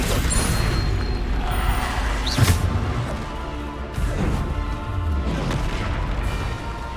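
Bombarda spell blasts in Hogwarts Legacy: a run of heavy booms and crashing impacts with whooshing bursts, loud and close over a constant battle din.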